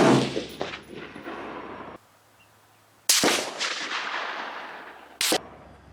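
A K31 rifle firing GP-11 ammunition at a shooting range: loud, sharp reports that ring out and echo, with long decaying tails and quiet gaps between shots.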